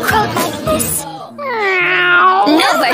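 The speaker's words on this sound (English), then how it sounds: "No, Bartolito, that's a cat!" In a children's farm song, a brief sung or spoken line gives way to a long, drawn-out cartoon cat meow, loud and close, rising and falling before another short meow at the end.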